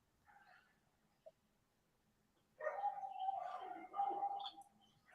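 Birds and dogs calling outdoors in Israel: a faint isolated call early on, then a louder burst of mixed bird cooing and animal calls filling the second half.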